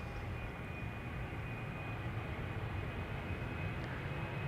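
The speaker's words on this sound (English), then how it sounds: "Embraer 190 to Oslo up next. KLM flight 1201." A KLM Embraer 190 jet on its takeoff run at Schiphol's Polderbaan runway, a steady broad engine roar holding level and fairly loud throughout, with no voices.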